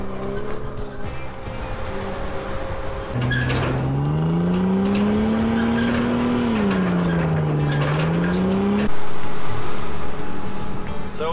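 A two-wheel-drive Ford truck powers into sand dunes, its engine droning loud and close with a rising and falling strained pitch as the wheels churn through sand, surging louder near the end.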